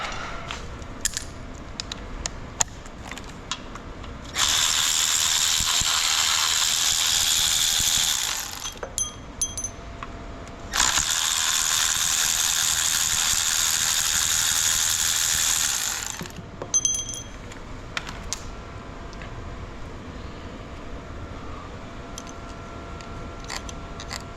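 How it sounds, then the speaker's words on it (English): A ratchet wrench clicks rapidly while loosening bolts during the teardown of an LQ9 engine, with two sustained bursts of close, loud ratcheting separated by a brief pause. "go ahead and take out a couple more of those bolts"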